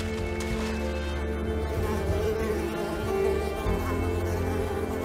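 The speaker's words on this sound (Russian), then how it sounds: "Ой, ты комаров забрал." Buzzing mosquitoes from the platform game Unravel, a steady insect drone layered over continuous background game music and ambience, with no voices.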